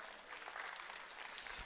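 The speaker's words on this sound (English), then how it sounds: "a round of applause" Audience applause at a school freshman orientation for parents, a steady wash of many hands clapping in a hall, faint and distant throughout.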